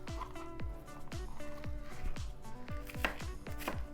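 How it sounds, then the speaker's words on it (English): Onion is roughly chopped with a knife on a board, giving a quick run of sharp, close knocks in a fairly even rhythm, about a dozen in four seconds, with no voices. "You can roughly chop it for now."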